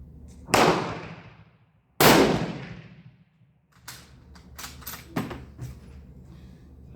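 Two loud, sharp gunshots from a 1939 Tula Mosin Nagant rifle at an outdoor range, each followed by a decaying echo, then a run of fainter distant shots and clatters from elsewhere on the range.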